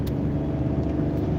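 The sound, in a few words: big block engine car rumbling while driving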